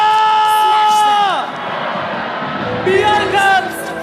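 An arena crowd roars and cheers at a Mobile Legends esports upper bracket final, loud sustained voices with a drawn-out shout that falls away, then a fresh burst of whoops near the end.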